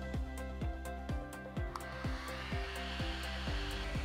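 A handheld IPL light-pulse hair removal machine powers on and warms up, giving a steady fan-like whir with a low pulsing thrum repeating about twice a second, close and continuous.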